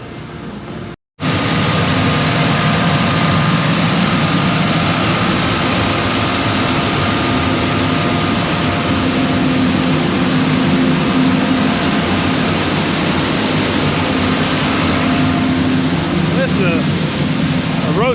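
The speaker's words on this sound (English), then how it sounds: "a roasting machine. You can roast all sorts of stuff." A soybean roasting machine with a burner and feed auger runs with a loud, continuous roar and whir, steady after a brief cutout at the start, with faint mechanical tones over the drone.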